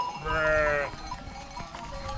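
Goats on a Turkish livestock farm bleat as they come out to feed on hay, with one loud, sustained, wavering bleat up close followed by fainter animal sounds and rustling.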